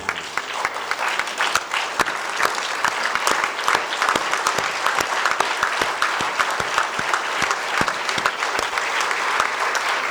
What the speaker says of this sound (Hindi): एक बार अपनी जगह से खड़े होकर जोरदार तालियां बजाएं